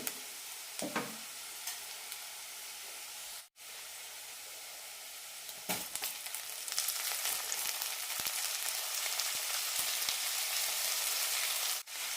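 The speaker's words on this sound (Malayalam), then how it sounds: "അരി നന്നായി വറുത്തെടുക്കണം" Rice roasting in oil with softened onions for ghee rice gives a steady, close sizzle and hiss that grows louder in the second half, with a few scraping stirs and no voices.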